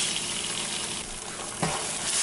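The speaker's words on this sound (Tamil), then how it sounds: "இப்போ இஞ்சி பூண்டு பேஸ்ட் நல்லா வதங்கணுங்க. அது வரைக்கும் வதக்கிக்கோங்க." Ginger garlic paste sautéing with onions in a pan for pepper chicken, giving a steady broadband sizzle with a brief louder burst near the end, and no voices.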